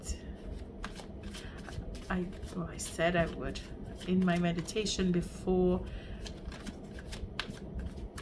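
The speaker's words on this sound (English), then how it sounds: "shuffling this deck" Cards being shuffled repeatedly, a crisp riffling flutter running steadily close by while a person talks over it.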